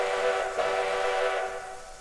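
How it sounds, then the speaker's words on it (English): Polar Express steam train whistle from a Roblox game, a sustained multi-tone chime-like blast held steady for about two seconds and fading slightly at the end, loud and alone with no talk. "here's the whistle. It's honestly my favorite Polar Express whistle"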